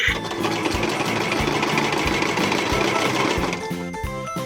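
A toy washing machine runs a wash cycle with a rapid, rhythmic mechanical whirring and clattering, loud and close, with no voice over it.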